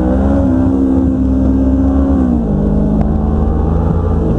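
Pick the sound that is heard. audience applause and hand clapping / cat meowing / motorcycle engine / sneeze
motorcycle engine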